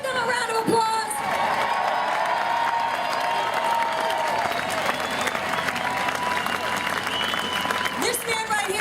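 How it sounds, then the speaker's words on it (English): Rally crowd at a St. Louis Tea Party breaks into loud, sustained applause with cheering and whoops, filling the space steadily for several seconds before tapering near the end, with voices mixed in. "Can we drown that out and give them a round of applause?"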